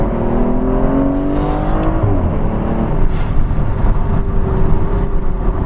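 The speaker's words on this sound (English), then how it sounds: "I mean, listen to this V12," An Aston Martin Vanquish V12 drones loudly while driving, its engine pitch rising then easing after a shift, over steady road and cabin rumble.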